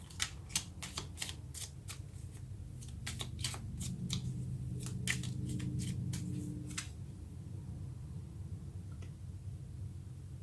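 Tarot cards are shuffled and drawn, a run of sharp riffling flicks in quick bursts up close, then a softer slide as a card is pulled, with no one speaking.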